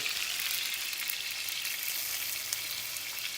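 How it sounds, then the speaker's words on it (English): Steady crackling sizzle of scallops searing in a hot pan, continuous and fairly close, with no voices. "you hear that sizzle?"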